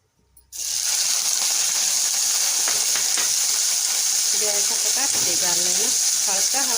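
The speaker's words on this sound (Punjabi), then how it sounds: "ਕੜਾਈ 'ਚ ਆਪਾਂ ਤੇਲ ਪਾ ਲਿਆ ਗਰਮ ਹੋ ਗਿਆ ਤੇ ਹੁਣ ਇਹਦੇ ਵਿੱਚ ਆਪਾਂ ਪਨੀਰ ਪਾਵਾਂਗੇ" Paneer dropped into hot oil in a kadai, a loud continuous sizzle that bursts in suddenly and holds steady, with a voice speaking over it.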